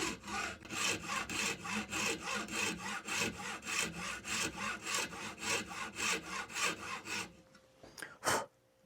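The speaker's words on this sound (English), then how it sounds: "I'll cut the slot with the hacksaw" A hacksaw cuts a slot into a circuit board fishing lure lip, with even back-and-forth rasping strokes in a fast steady rhythm, close and alone, ending in a couple of light knocks.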